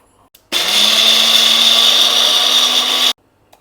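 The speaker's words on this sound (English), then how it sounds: "Now we will grind it into a paste." Kitchen mixer grinder whirring steadily as it grinds soaked methi (fenugreek) seeds into a paste, a loud, even motor whine that starts abruptly, runs about two and a half seconds and cuts off sharply.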